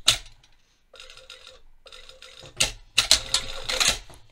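A sewing machine stitches a seam on men's jogger track pants, running in short mechanical bursts that stop and start again as it backstitches, with clicking, rattling needle strokes close by and no talking.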